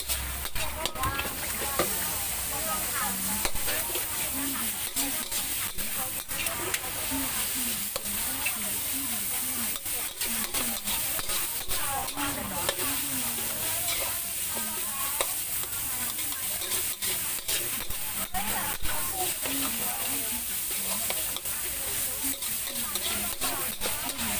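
Basil pork meatballs stir-fried at a Thai street food stall, a steady sizzle with continuous scraping and clanking of the spatula against the wok, fairly close, with some background voices and stall bustle.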